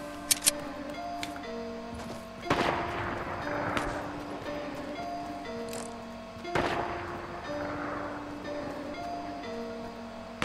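Fortnite Battle Royale gunfire: two loud broadband shots about four seconds apart, each with a long decaying tail, heard over steady game music and ambience with a few faint clicks.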